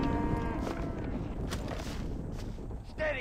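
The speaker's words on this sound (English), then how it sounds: "Steady now, you dumb cows." Cattle moo in the open among a farm herd, low lowing calls under wind and shuffling footsteps, with a faint voice at the start.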